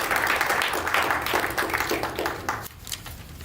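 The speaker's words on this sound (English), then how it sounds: "So just give them a round of applause." A smaller group at a school board meeting claps for a few seconds, the applause thinning and fading out near the end.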